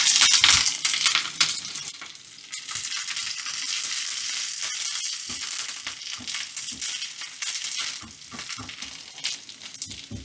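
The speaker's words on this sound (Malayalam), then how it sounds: "ഇത് എണ്ണ ചൂടായി വരുമ്പോഴത്തേക്ക് അതിലേക്കൊരു 3-4 പച്ചമുളക് ഇട്ട് കൊടുക്കുന്നുണ്ട്." Garlic, green chilies and curry leaves fry in hot coconut oil in a pan for mutton kurma, giving a steady close sizzle with crackling pops and occasional stirring scrapes.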